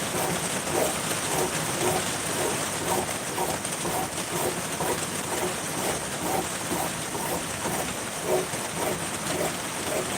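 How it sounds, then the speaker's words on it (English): Steady rain falls outdoors near a small islet, a dense, constant patter that stays moderately quiet and unbroken throughout, with no talking. "apologies for the rain"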